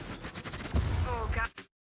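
A drone attacks with rapid gunfire in The Division video game, a short, dense burst of shots and impacts lasting about a second and a half before cutting off abruptly.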